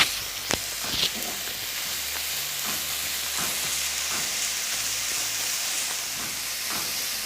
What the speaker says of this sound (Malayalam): മഞ്ഞൾപ്പൊടി, പിന്നെ ഉപ്പ്. നമുക്ക് ഇളക്കി കൊടുക്കാം.